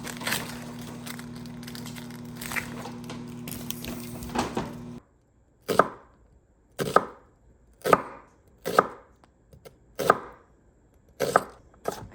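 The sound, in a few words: knife slicing red onion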